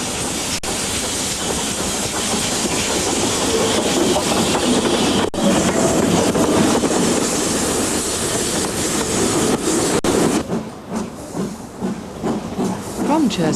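A steam train rumbles steadily past at close range near Churston in southern England, with hissing and rattling wheels, the noise easing and thinning toward the end.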